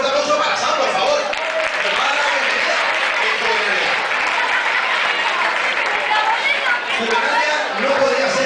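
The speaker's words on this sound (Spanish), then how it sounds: "Un fuerte aplauso para Sam, por favor" A loud, dense burst of crowd applause at a press conference for the Juvenalia youth fair, mixed with chatter and voices, continues at an even level throughout.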